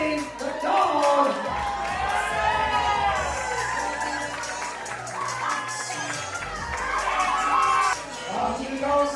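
Wedding guests at a reception cheer, whoop and shout in a lively, continuous crowd roar while a dog is brought in, voices rising and falling without pause.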